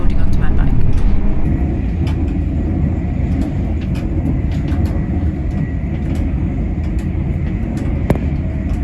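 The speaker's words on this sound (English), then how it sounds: "the train is now going very fast to make it up" Interior of a fast-moving passenger train carrying cyclists with bikes, a loud continuous rumbling roar with rattling and clicks over the track, steady throughout.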